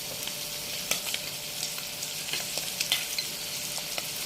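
Ginger garlic paste fries in a hot pan with shrimp and curry leaves, a steady faint sizzle broken by occasional stirring clicks and scrapes.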